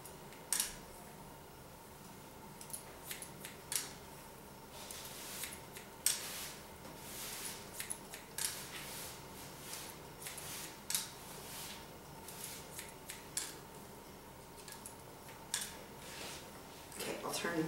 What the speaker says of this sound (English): you're going to cut it down this way, just to make sure that it's all even